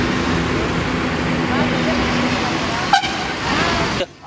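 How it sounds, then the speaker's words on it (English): A truck horn honks at a roadside temple as vehicles pass, heard over steady road traffic noise with a sharp tonal blast near the end; voices talk in the background. "Horn की आवाज आ ही रही है."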